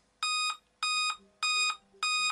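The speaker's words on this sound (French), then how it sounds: "si les piles de l'émetteur sont faibles, le récepteur émettra 4 signaux sonores courts" A Radioband wireless receiver gives four short, loud electronic beeps in an even rhythm, warning that the transmitter's batteries are low; no voices.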